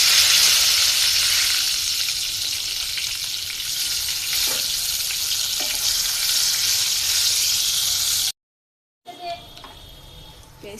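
Dried chillies and whole spices (cardamom, cloves, peppercorns) hitting hot oil in a wok, giving a loud, steady, close hiss of frying that runs unbroken for about eight seconds, cuts out briefly, then resumes more quietly.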